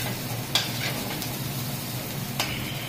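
Sliced onion fries in oil with curry leaves in a restaurant kitchen, a steady soft sizzle with two brief sharp stirring clicks, close and alone.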